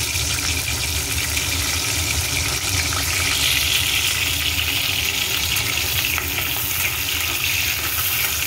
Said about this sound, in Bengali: শিমটা অল্প একটু ভেজে নেব।